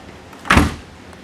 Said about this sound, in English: there's the door shut all the way.